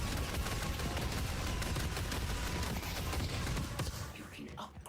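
Rapid turret gunfire rattles continuously in the Deadlock video game, a dense, loud fusillade of overlapping shots that runs nearly the whole time and thins slightly at the end.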